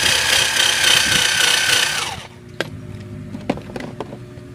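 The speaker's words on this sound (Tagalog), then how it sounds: "so gamitan na natin ng drill" A power drill runs hard and steady as it drives a screw into wood, a loud continuous whine lasting about two seconds before stopping, followed by a few soft knocks and clicks of handling.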